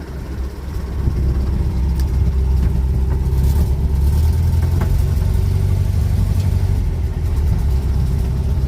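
A small Nash Metropolitan engine drones loudly and continuously as the car pulls up a hill, a steady mid-pitched motor hum with slight variations in revs, heard close from inside.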